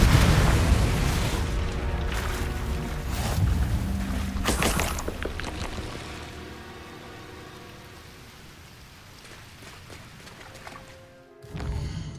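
Fiery Confringo spell explosion in Hogwarts Legacy, a loud booming burst with crackling debris that rumbles on and slowly dies away, followed by a sharp thump near the end.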